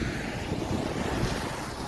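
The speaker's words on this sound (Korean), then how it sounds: "물론 평소보다는 바람이 세게 불어요." Strong, gusting wind during a typhoon blusters steadily across the microphone as a dense, roaring rush, loud and constant with no other clear sounds above it.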